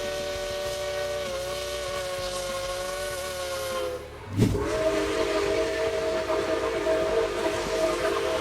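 Southern Pacific 4449 steam locomotive sounds a long, loud chime whistle over hissing steam, breaks off briefly with a sharp burst of exhaust, then resumes the sustained whistle.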